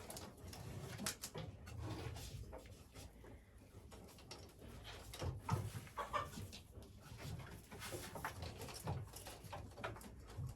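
Hens of mixed breeds, including Adler, naked-neck and a crested Adler hen, cluck and murmur softly inside a chicken coop, with scattered rustling and occasional louder calls in a quiet, close setting.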